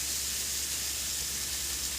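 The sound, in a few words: diced bacon sizzling in a hot skillet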